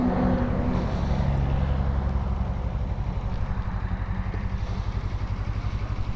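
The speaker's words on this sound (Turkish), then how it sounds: "Motor çalışıyor bıraktım." A Suzuki V-Strom 250 motorcycle engine idles steadily close by, a constant low rumble with an even throb and no talk.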